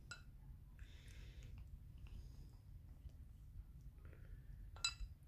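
A dog gnaws at a drinking glass, giving a few faint, sparse clinks and scrapes scattered over a quiet low hum, with a sharper clink near the end.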